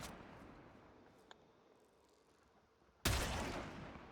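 A single loud gunshot from a primed-chamber weapon in a shooting game cracks out sharply near the end, preceded by a faint click and quiet ambience.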